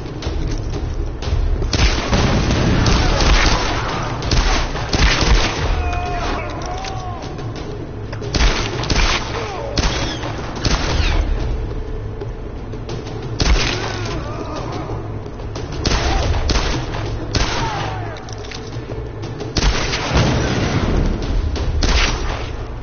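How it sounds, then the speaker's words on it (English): Gunfire in a Tomb Raider game: repeated loud, close booming shots and blasts arrive in bursts across the stretch, with a voice speaking intermittently between volleys. "Gun."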